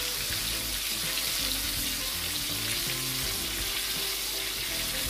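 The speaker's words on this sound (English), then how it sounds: "Whenever we're frying our meat, we always add some garlic" Steady, dense sizzling of chicken frying in hot oil, continuous and fairly close, with faint stirring clatter and no voices.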